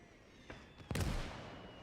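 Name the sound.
mortar strike explosion in video game Gates of Hell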